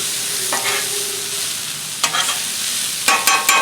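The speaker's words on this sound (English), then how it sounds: "now I'm going to add everything together. Give it a good mix." Chicken stir fry sizzles steadily on a Blackstone griddle while a spatula scrapes and clanks against the metal surface in a few sharp bursts, close up and without talking.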